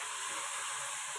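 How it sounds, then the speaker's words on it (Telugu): Tomatoes tipped into a hot pan give off a steady, dense sizzle and hiss with no break, close and fairly loud, with no talking over it. "దీంట్లో టమాటా వేసేద్దాం"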